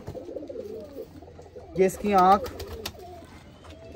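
Lakha pair racing pigeons coo in one loud, close, warbling burst midway, while someone speaks quietly before and after it.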